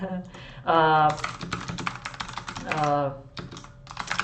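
Quick bursts of typing on a computer keyboard, clicking keys close by, interrupted by a person talking during an online webinar.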